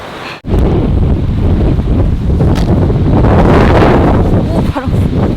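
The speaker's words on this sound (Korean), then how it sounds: "여기서 바람 소리 나는 것 봐." Strong, steady wind on a mountain ridge trail on Saryangdo island roars and buffets the microphone loudly, with a brief dip near the start before the gusting rush continues unbroken.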